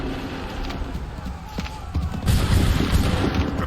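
Musket volleys in Assassin's Creed III, several sharp cracks and booms scattered through the clip, the firing swelling into a louder, rumbling barrage toward the end, with shouted commands in between.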